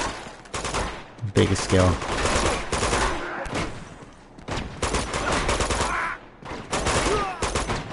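Rapid gunfire bursts from a run-and-gun firefight in the video game Uncharted 2, sharp volleys and fusillades recurring through the stretch, with someone talking over the shooting.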